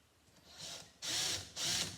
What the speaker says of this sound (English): I can give a little bit of a pilot hole, drill this out just a little bit.